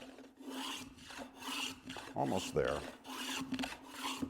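Hand plane strokes shaving along a long wooden stick being shaped toward a rabbet shoulder, a series of short rasping swipes mid-clip, moderately close, with a brief spoken remark.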